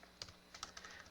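Typing on a computer keyboard at a Linux terminal, a short run of about six quick, crisp keystrokes at an uneven rhythm, fairly faint and close, with no talking.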